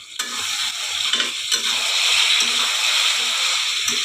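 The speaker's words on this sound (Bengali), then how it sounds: "একটু কষিয়ে নিলাম" Stir-frying a dish seasoned with garam masala powder, with loud continuous sizzling and repeated scraping stir strokes at a steady rhythm, close and busy throughout.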